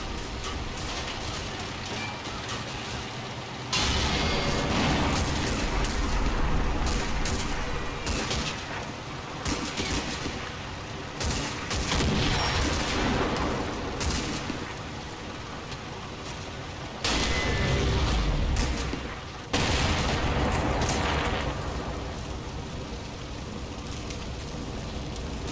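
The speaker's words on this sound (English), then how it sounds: "On the right flank, Panthers and half-tracks advance under heavy fire." Dense, continuous battle noise from the World War II strategy game Combat Mission, heavy gunfire and artillery with tanks and half-tracks advancing, rolling as a loud unbroken roar with sudden surges and drops in intensity.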